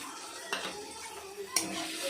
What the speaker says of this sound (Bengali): এবার এটাকে ভালোভাবে কষিয়ে নেবো